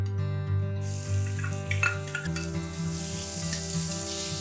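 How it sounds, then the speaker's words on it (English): Finely chopped onions sauté in hot ghee with cumin seeds, giving a steady close sizzle with light stirring over a constant low hum. "Now saute the onions till they are nice and golden brown in color"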